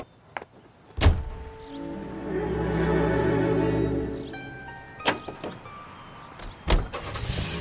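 A car in the 1940s Los Angeles crime game L.A. Noire: loud door thuds bracket an engine that starts and rumbles steadily for a few seconds, followed by more clunks from the doors.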